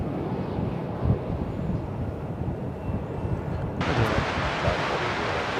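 An American Airlines airliner arriving at DFW Airport roars past as a broad, rushing jet rumble, loud and sustained, growing brighter and harsher partway through with wind buffeting the microphone.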